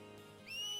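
A short, clear whistle in a video game rises abruptly near the end, thin and fairly close over a quiet tonal background.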